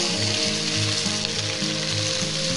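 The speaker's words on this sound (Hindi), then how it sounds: "इसके साथ ही हम इसमें ये मैरिनेट किया हुआ चिकन ये ऐड कर देंगे" Marinated chicken frying in a pot for Champaran-style handi chicken, a loud, dense sizzle with soft rhythmic stirring scrapes, close and uninterrupted, no voices.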